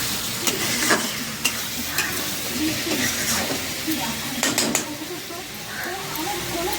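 Tomatoes and green chillies hit a pan of frying masala for a chicken curry, giving a steady sizzle broken by scraping, clattering stirs at irregular intervals, close and fairly loud.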